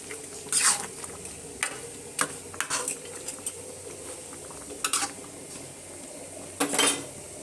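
Utensils and a metal lid clatter against a pot of simmering duck curry in a series of sharp clinks and knocks at irregular intervals over a quiet kitchen background.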